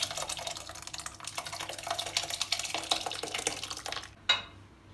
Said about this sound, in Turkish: Bunu 5 dakika dinlendikten sonra böyle yavaşça tülbentin üzerinden döküyoruz.